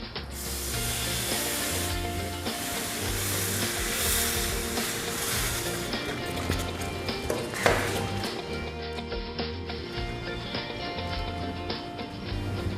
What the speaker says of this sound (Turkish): Şimdi sütümüzü ilave ediyoruz